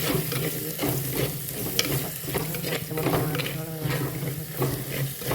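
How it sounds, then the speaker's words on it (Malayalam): Chili powder sautéed in a pan for a prawn dish, with continuous close sizzling and frying plus scraping stir strokes throughout, and no talking. "2 ടീസ്പൂൺ മുളകും പൊടി ഇട്ട് നന്നായിട്ട് പച്ചമണം വേണ്ടി വഴറ്റുക"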